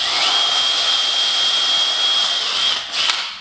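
A power drill bores a 5 mm hole during a loudspeaker cabinet build, giving a loud, steady high whine for about two and a half seconds before winding down and stopping.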